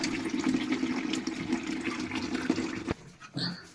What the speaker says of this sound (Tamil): ப்ளஸ் பண்ணுறோம் ப்ளஸ் பண்ணால் தண்ணி எல்லாம் நீட்டாக அடிக்கிறதுங்க